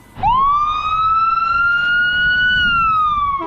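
An emergency vehicle siren in central Ohio gives one loud, sustained wail that rises and then slowly falls, close by and alone with no talking.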